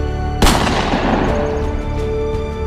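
A single loud gunshot with a sharp crack and a long booming tail, fired as police open fire on a flag-bearing independence protester in colonial India, with a dense musical bed continuing underneath.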